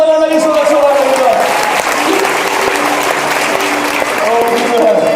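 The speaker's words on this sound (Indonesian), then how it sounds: "kasih tepuk tangan lagi saudara-saudara kita" A church congregation applauding, loud sustained clapping at close range throughout, with a voice speaking and singing over it at the start and end.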